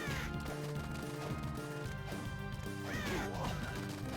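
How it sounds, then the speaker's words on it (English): Crows caw in the video game Castlevania: Portrait of Ruin, with harsh calls rising through constant game music and effects, layered with hits and crashes across the whole stretch. "Maybe I'll just hit every crow."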